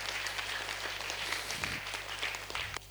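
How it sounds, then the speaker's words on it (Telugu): A group claps together after a guided meditation session, producing a dense, even patter of many hands that is fairly faint and distant, with a low electrical hum underneath. "గట్టిగా చప్పట్లు కొడదాం ధ్యానానికి."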